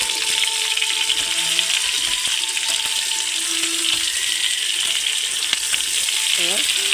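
Chopped onion sizzles steadily in a hot pan while a tengra fish curry is cooked, a dense close frying hiss running throughout, with a brief voice and a few light utensil clinks near the end.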